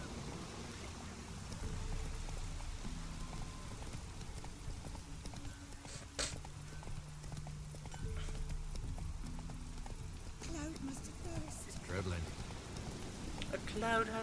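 A horse galloping in The Witcher 3 video game: steady, rhythmic clip-clop hoofbeats under a wash of rain-like noise and faint game ambience, continuing throughout at moderate loudness.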